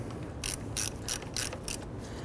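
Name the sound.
ratchet snugging down bolts on Ford Mustang water pump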